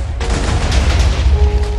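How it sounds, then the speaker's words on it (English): A missile is blown up in Minecraft Missile Wars, a loud close explosion that bursts suddenly and rumbles with crackling debris for under two seconds, no talk. "Did you like how I blew up your missile?"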